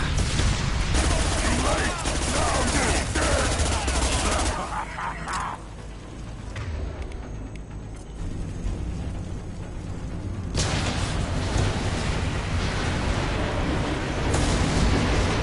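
Sustained gunfire and explosions from the sci-fi shooter Mass Effect 2 during a battle at a burning refinery, a dense loud barrage that eases briefly midway before surging back to full intensity.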